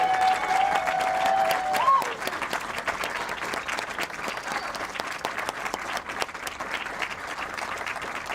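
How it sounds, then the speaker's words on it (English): A crowd at a ribbon-cutting ceremony applauds a band. The sustained, even roar of many hands clapping is heard at a moderate distance, and a brief high tone sounds near the start. "Can we have a round of applause for the pride of Springfield,"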